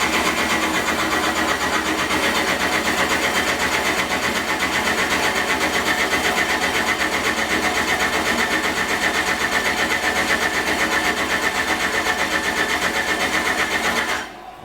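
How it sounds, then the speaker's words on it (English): A diesel engine on a dyno is spun over by the starter to bleed air from the fuel system, giving a steady, loud, fast mechanical chatter that runs unbroken for many seconds before cutting off. "I'm going to spin it over till I get fuel coming out of here"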